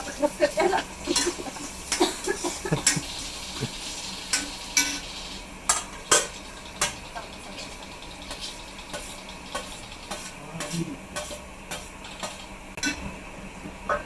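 Onion frying in a pan with curry leaves and cumin, a low sizzle broken by frequent sharp clicks and scrapes of a spatula against the pan.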